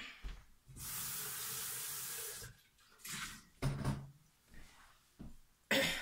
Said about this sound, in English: Rinse out my lye bucket.